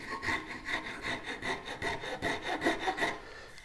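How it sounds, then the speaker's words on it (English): A budget Iwasaki wood file rasps across wood in quick, even back-and-forth strokes, about four per second, close and moderately loud, with no voices. "It's an Iwasaki wood file. It isn't really a file, it's not really a rasp, not really a float."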